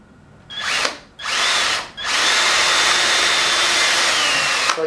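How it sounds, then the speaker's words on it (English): Power drill boring into wood at an angle while building a storage rack, two brief whirring bursts followed by a long, loud, steady high-pitched run, close up with no talk. "from back here I'll come through with my drill at an angle"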